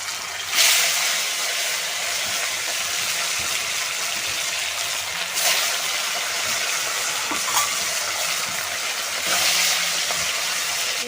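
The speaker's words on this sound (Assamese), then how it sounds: "এয়া মাছ ফ্ৰাই কৰি আছোঁ।" Fish sizzling and spitting in hot oil over a fire, a steady broadband hiss with occasional sharper crackles and pops, loud and close throughout with no talking.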